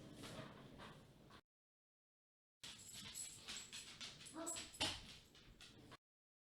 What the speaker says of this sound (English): sorry, my dog wants in.